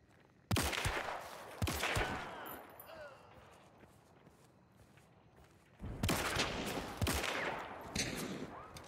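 Loud gunfire in Hunt: Showdown, a Cyclone rifle among the weapons, sharp close shots fired in two bursts of quick, uneven reports separated by a quieter lull.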